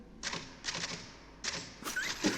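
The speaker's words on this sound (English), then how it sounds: "Whenever I'm in here, you hear me typing." A typewriter clacks in a few separate bursts of keystrokes, with quiet gaps between them, in an indoor room with no speech.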